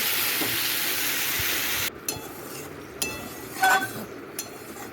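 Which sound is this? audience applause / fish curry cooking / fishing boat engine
fish curry cooking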